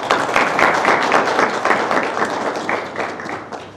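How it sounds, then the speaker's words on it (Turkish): Wedding guests applaud after the bride says yes at a civil ceremony, a dense continuous wash of hand claps heard close and fairly loud, tapering slightly toward the end with no speech over it. "Alkışları duyduk, cevabı duyduk."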